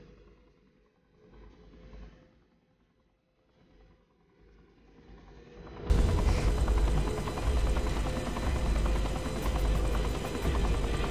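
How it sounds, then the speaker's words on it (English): A helicopter flying in the action game Saints Row: The Third gives a quiet, uneven hum at first, then a sudden loud, dense roar of rotors and engine that holds steady through the rest of the clip. "Yeah, I'll just ride on top of the helicopter."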